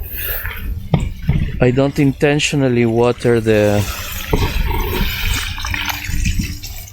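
Water pours and splashes steadily onto garden soil and leaves at the base of plants, avoiding the foliage, with a person talking over the continuous trickling.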